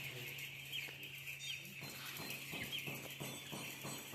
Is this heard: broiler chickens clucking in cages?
yes